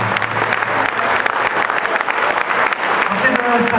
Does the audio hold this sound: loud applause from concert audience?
yes